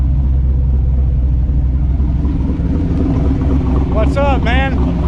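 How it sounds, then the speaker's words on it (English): A 1994 Cobra car with a new T5 transmission idles nearby, a loud, steady low rumble throughout, with a voice speaking briefly over it near the end. "Taking it for a little ride. I think we got the idle situated."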